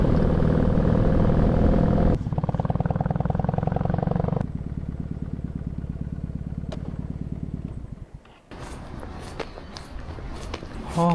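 A motorcycle rides along the coast, its engine droning steadily and loud, shifting in pitch as the rider changes speed and then easing off, with wind rumble and a quick drop near the end.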